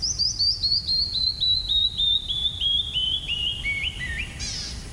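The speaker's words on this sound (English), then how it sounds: "If you've never heard a canyon wren, that's an extraordinarily beautiful bird call." A canyon wren sings its song in the wild canyon country of the Needles District: a rapid, clear series of descending whistled notes, slowing and dropping in pitch over about four seconds, alone over a faint low background rumble.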